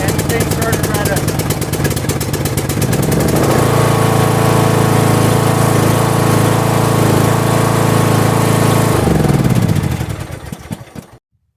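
A small engine, started with a Hulkman 10.0 heavy-duty jump starter, catches and roars loudly nearby, holding a steady rumbling run for several seconds before winding down and cutting off.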